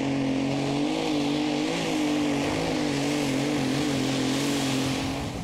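A heavily tuned pulling tractor roars through a tractor pull run at the 2015 Eurocup in Brande, Denmark, its engine droning steadily and loudly with slight pitch wavers throughout.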